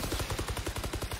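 Rapid gunfire from a wall bang in Valorant, shots penetrating a wall during a competitive esports match, firing in a steady fast rhythm of around a dozen evenly spaced bursts, loud and close with no talk.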